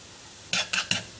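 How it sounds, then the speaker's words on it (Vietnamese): Garlic hits hot oil in a pan, giving three short, loud bursts of sizzling crackle in quick succession against a quiet background. "mình phi cho thơm"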